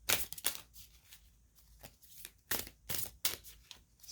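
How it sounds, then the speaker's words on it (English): A stiff tarot deck being overhand shuffled by hand, giving a series of irregular papery riffles and slaps in short bursts, close and fairly quiet, with no talking. "let me just try shuffling it a different way"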